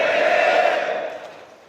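An audience at a Jakarta community organization's regional assembly breaks into a burst of cheering and loud clapping that swells and then fades away within two seconds.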